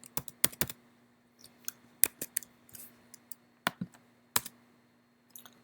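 Password keystrokes on a computer keyboard, a sparse run of sharp, close clicks in small bursts with short pauses, over a faint steady hum and no talk.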